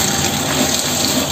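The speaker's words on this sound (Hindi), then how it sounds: "मैं भिगो रही हूँ" Water pours steadily into a bowl to soak haleem ingredients, a close, continuous gushing stream like a running tap, loud and unbroken throughout.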